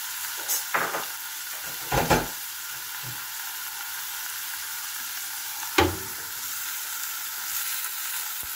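Tomatoes and shrimp sizzle and fry steadily in a hot pan, with a few sharp bursts of stirring and spatula scrapes standing out against the constant hiss.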